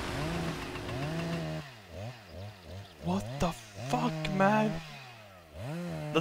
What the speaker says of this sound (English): either a chainsaw massacre or someone working in the forest